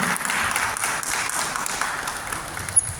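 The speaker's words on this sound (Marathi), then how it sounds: "जोरदार टाळ्या झाल्या पाहिजे त्या आपल्या आजच्या कार्यक्रमासाठी" Audience applause at a stage show of singers, a steady even patter of clapping, moderately loud, with no talk over it.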